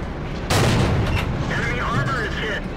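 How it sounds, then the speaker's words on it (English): A Pz.Sfl. IVc tank gun fires in World of Tanks, a single loud, sharp boom that rolls off into a ringing, echoing tail, with engine rumble underneath. "Coming up is a shot that shows you just how devastating the 4C's gun really is."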